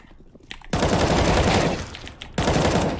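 Bursts of rapid automatic gunfire in the video game Counter-Strike: Global Offensive, two long sustained volleys separated by a short pause, loud and close.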